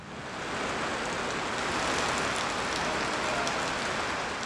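Steady rain falls over farm fields, a dense, even hiss of drops on the ground that rises quickly and holds constant, with no voices.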